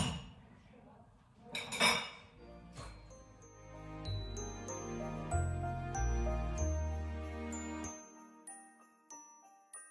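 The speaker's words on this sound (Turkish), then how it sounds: "Şimdi geldi sıra kirli olan bulaşıkları makineye yerleştirmeye." Dirty dishes, glasses and cutlery being loaded into a dishwasher, with a burst of clattering followed by a run of bright ringing clinks and chimes that fade out.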